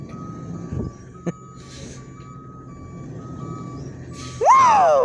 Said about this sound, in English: Get a load on that backup sound.